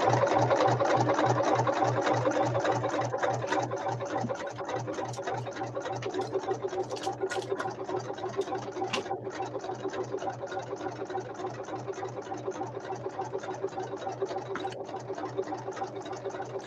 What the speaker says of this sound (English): I'm going to sew this edge